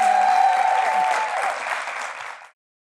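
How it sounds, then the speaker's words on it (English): A studio audience on a TV talk show breaks into warm applause, a dense burst of clapping that holds steady before fading out after about two and a half seconds. "Give her a warm applause."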